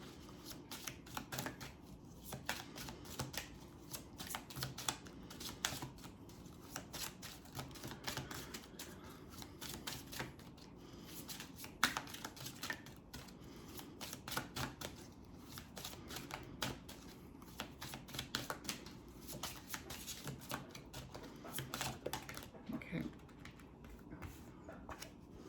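Tarot and oracle cards shuffled by hand in repeated soft, rapid riffling bursts, faint and close, continuing steadily without talk.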